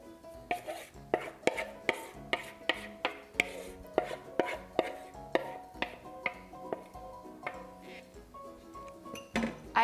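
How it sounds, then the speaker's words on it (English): Spoon scraping and clinking in a bowl as wet ingredients are stirred into dry for lemon poppy seed muffins, a steady series of close, regular strokes with light ringing knocks, no talking. "we're going to add our wet ingredients to our dry ingredients and stir just until it's mixed together"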